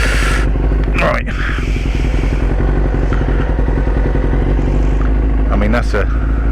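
A Kawasaki Thundercat or ZX6-R motorcycle engine idles lazily and loudly close by, with clatter and scraping, under a person talking.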